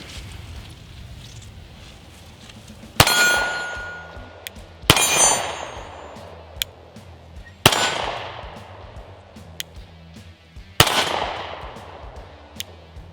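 A Sig P365 SAS pistol fires at steel targets outdoors: four loud, sharp shots spaced a few seconds apart, each followed by the ringing clang of struck steel fading out, with fainter metallic pings between them.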